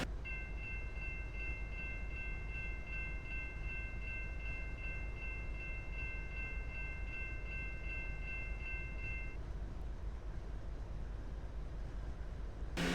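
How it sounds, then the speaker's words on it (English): A Q208 freight train led by a classic EMD locomotive arrives at Butler Street in a Roblox railfanning game, with a sustained multi-tone horn blast over a steady low rumble of rolling cars that continues after the horn stops. "At 11:52 we see another train coming into Butler Street. This is a Q208 with a classic EMD leader on the point."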